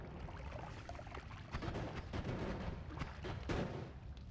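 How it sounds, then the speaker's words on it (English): A propane blast and other explosions in the pixel-physics game Noita make a steady, dense low rumble with repeated bursty crackles. Louder surges come at about 1.5 s and 3.5 s. "the explosion isn't seeming to hurt me all too much"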